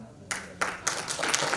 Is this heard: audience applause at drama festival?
yes